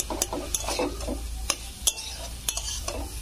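Banana stem with poppy seed paste is stirred and sautéed in a pan, a soft background sizzle punctuated by sharp scraping clicks of the spoon at an uneven rhythm.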